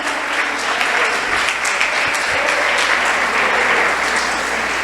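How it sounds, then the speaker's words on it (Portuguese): A church congregation applauds during a Portuguese-language service, a dense, steady wash of many hands clapping loudly and continuously throughout, with no break. "Aplauda o Senhor."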